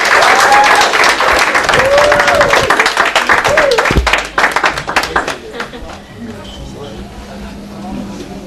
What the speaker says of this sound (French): Mesdames et messieurs, sous vos applaudissements, nous allons accueillir notre cher Premier ministre, Yves Fulgence Batois.